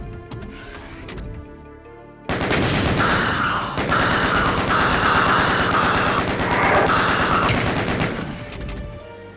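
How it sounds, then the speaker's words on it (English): Rapid, sustained chain gun fire in Doom, aimed at a group of revenants, loud and dense for most of the stretch after a quieter opening, with no talking. "Usually you can stun lock a revenant with the chain gun, sometimes you can't"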